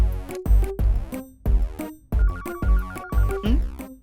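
A phone ringing in a Hindi-dubbed comedy film scene, with a loud, close melodic ringtone, its tune repeating in short rhythmic bursts.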